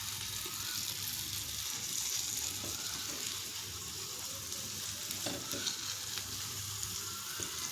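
Okra frying crisp on a tawa pan, a close, continuous sizzle and hiss with occasional scrapes and stirs.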